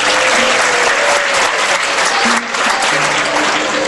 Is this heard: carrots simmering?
no